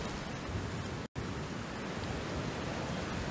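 Rain falling in the game Ready For Math with Pooh: a dense, even wash of hissing downpour that cuts out for a split second and then carries on unchanged.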